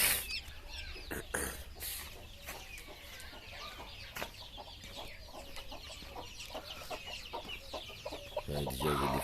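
Chickens in a coop cluck and squawk repeatedly at close range, busy overlapping calls with scratchy movement and a voice talking in the background.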